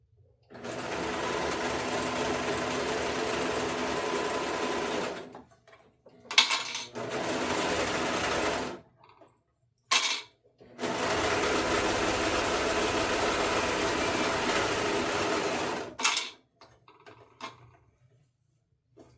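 A sewing machine stitches a gala gown in long, even runs of steady mechanical whirring, stopping between bursts for short clicks and pauses, then starting again for a second long run; no talking.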